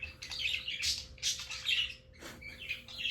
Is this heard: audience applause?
no